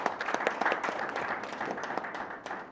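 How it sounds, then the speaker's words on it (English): Audience at a panel discussion on financing Zambia's mining exploration gives a round of applause, a steady patter of clapping hands lasting a few seconds at moderate level without speech. "Let's just give her a round of applause."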